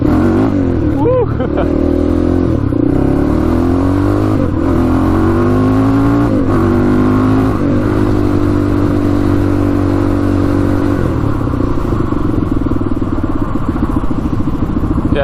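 A cheap quad ATV engine runs and revs up close, loud and rough, with rising and falling pitch sweeps over a steady idle rumble, and someone speaks over it.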